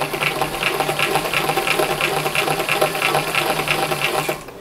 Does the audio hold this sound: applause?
no